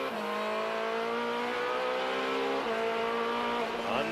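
A Ferrari race car screams past at Daytona during the 24-hour endurance race, its high-pitched engine loud and sustained, with a brief gear change dip near the end.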